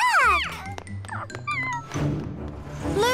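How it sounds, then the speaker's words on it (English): A cartoon cat lets out several high, sliding meows, some rising and falling sharply, in quick succession over light background music. "Hi, little cat. Do you want a treat?"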